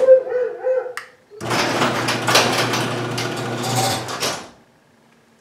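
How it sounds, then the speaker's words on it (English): A LiftMaster, Chamberlain or Sears garage door opener runs for about three seconds as the door opens, a steady mechanical motor drone with rattling, close and fairly loud, after a brief electronic beeping and a click. "And it opens up the door."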